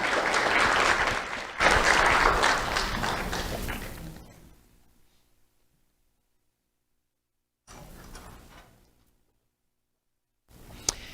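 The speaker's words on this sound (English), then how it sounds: "Let's have a round of applause for Ashley Milan." Applause for a sixth-grade award recipient at a sheriff's office youth awards ceremony: a crowd claps loudly for about four seconds and fades out, then after a silent gap a shorter, quieter burst of clapping returns twice.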